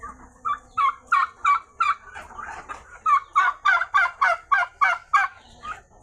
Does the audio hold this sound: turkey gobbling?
yes